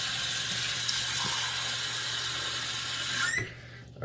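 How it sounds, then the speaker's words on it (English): Hot water pours steadily from a tap into a shaving cup, a continuous close splashing rush that cuts off abruptly near the end, leaving near silence. "You put some hot water back in my cup"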